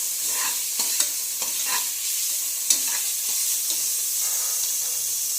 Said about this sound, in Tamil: இஞ்சி பூண்டு பேஸ்ட்டையும் அந்த வெங்காயத்தோடு சேர்த்து பச்சை வாசனை போகிற வரைக்கும் வதக்கணும்